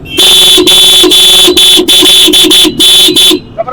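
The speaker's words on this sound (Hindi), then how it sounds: "ये करोला के आते हैं, पीपीक वाले ओरिजिनल हॉर्न आते हैं जापानी।" A loud, close original Japanese Toyota Corolla car horn blares in a rapid series of about a dozen bursts, with short gaps between them, ending abruptly.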